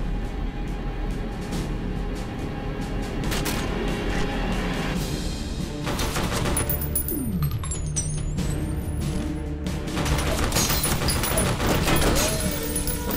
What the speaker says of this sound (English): A laser rifle.